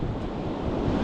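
Surf washes onto a beach on a sunny day at high tide, a steady rushing roar mixed with wind buffeting the microphone, with no voices.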